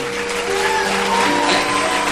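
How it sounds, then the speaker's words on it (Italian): A theatre audience at a live comedy show at Teatro S.F. Romana in Rome applauds a performer, dense steady clapping filling the whole stretch at fairly close range. "Facciamo un applauso ad Andrea."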